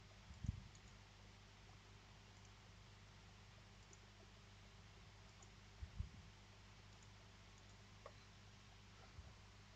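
A computer mouse clicks a few times at a desk, sharp isolated taps spaced seconds apart over a quiet low hum.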